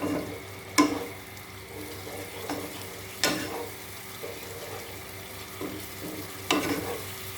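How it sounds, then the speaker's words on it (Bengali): Minced meat cooks with mustard oil, chilli powder, salt and turmeric in a pan for kima ghugni, giving a soft steady sizzle. A few sharp spatula scrapes and clinks stand out close by, with no talk. "কিমাটাকে এই মশলার সাথে ভালো করে কষাতে থাকবো।"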